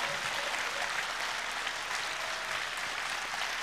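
A large audience at the Finnish Syksyn Sävel 2012 song contest applauds steadily, with dense, continuous clapping filling the hall at a consistent level throughout.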